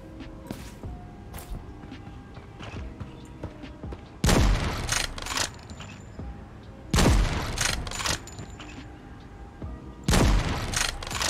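Sniper rifle fire in the video game Creative Destruction, with three heavy booming shots spaced a few seconds apart, each with a long ringing tail, over quieter footsteps and game ambience.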